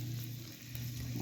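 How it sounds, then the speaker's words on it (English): Mushrooms sauteing in a pan for a wild turkey mushroom gravy give a steady, close sizzle with a low hum underneath, continuous and even throughout. "here I am still sauteing the mushrooms"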